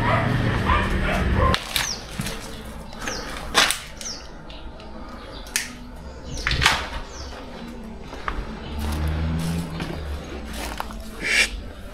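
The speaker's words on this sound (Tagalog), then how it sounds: "Mga aso." Dogs roaming a cemetery in Magdalena, Laguna give intermittent barks and whimpers at moderate distance, with outdoor ambience and light birdlike sounds.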